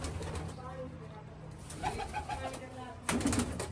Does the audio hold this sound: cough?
no